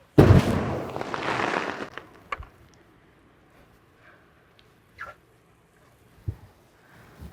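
Hot water tossed into liquid nitrogen bursts with a loud roaring whoosh as the plume erupts at a science show, fading over about two seconds, followed by scattered faint knocks and pops.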